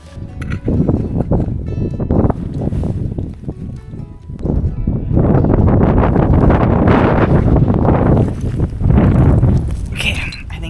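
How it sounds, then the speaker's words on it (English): Strong wind gusting outdoors near an old mine in Wales, buffeting the microphone in heavy rumbling surges that swell and ease over the stretch, loud and close. "the wind seems to be getting worse"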